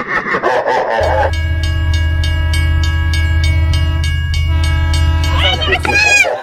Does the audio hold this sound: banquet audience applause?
no